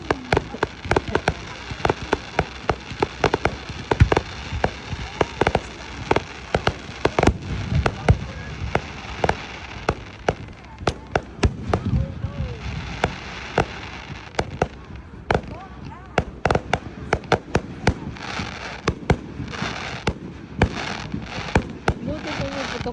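Fireworks going off in the rain, dense rapid crackling bursts and pops in an irregular stream, some near and sharp, others softer, with people talking over the noise.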